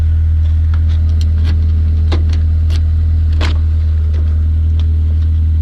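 An old 1997 Acura Integra GS engine idles steadily and loudly up close, a constant low rumble with a few faint clicks and ticks on top.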